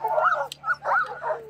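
Sled dogs at a dog camp on Mendenhall Glacier near Juneau, Alaska, give short whimpering yips and whines, close by, over a low steady hum.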